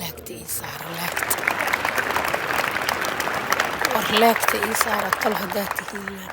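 Applause from an audience at a graduation ceremony for a residential program class, a steady clatter of clapping filling the room with voices and a brief announcer's voice mixed in.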